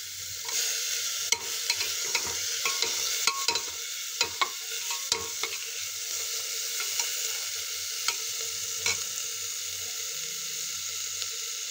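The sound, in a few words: chopped tomato being sautéed in a pan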